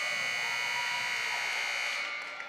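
A steady electronic buzzer sounds at halftime of a unified basketball game between Leavitt and Poland, holding loud and continuous for about two seconds before cutting off into gym noise.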